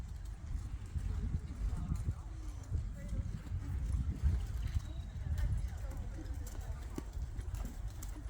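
Several horses canter around a show arena, their hoofbeats a muffled, continuous drumming on soft footing, with people talking over the top throughout.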